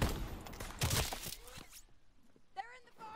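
Gunfire bursts crackle in Call of Duty WWII multiplayer, a dense volley of shots early on that thins into scattered distant reports, with game voice callouts heard over the action.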